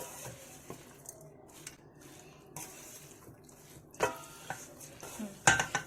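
A carrot, radish, garlic and green chili pickle mix with salt and black salt is stirred in a pot, giving soft scraping and clinking with a few louder knocks near the end, close and without speech.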